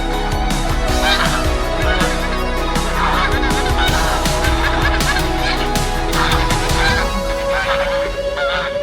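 A flock of farm geese honk and squawk loudly and continuously at close range, overlapping calls in a busy, agitated chorus that fills the whole stretch.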